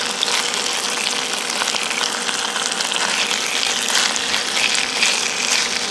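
Vegetables stir-frying with miso in a pan at an outdoor day camp in Amakusa, Kumamoto: a steady, dense sizzle with light scraping of stirring, continuous and close, with no talk.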